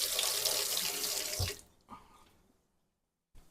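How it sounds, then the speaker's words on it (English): Tap water runs loudly and steadily into a sink while hands are washed, then cuts off abruptly, followed by a couple of faint clunks and a brief knock in the quiet that follows. "Wash my hand."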